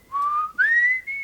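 A person whistles louder at a doctor's request, three short sustained notes rising in pitch, clear and close with no other sound.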